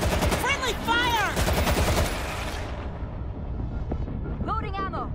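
Heavy automatic gunfire from friendly fire in the zombie shooter World War Z, loud rattling bursts crowding the first half and tapering off, with a voice speaking over it.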